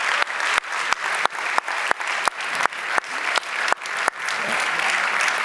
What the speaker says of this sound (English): you can include me in the robust round of applause that you're going to give to all our panel